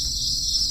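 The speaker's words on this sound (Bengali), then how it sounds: "চারদিকে ঝিঝি পোকার ডাক।" Crickets chirp steadily all around a village courtyard on a hot, powerless night in the month of Chaitra, a dense continuous high trill with no voices.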